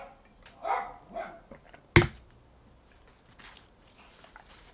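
Dogs barking somewhere off in a home workshop on a breezy day, a few scattered yips early on and one sharp, loud bark near the middle, then only faint background.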